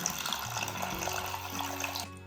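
Water pours steadily into a cooking pot of rasam on the stove, a continuous splashing, gurgling flow that stops abruptly near the end, with no voices.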